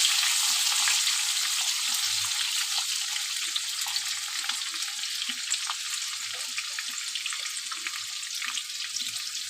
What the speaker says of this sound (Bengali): এবার আমি এটাকে বেশ একটু লাল লাল করে ভেজে নেব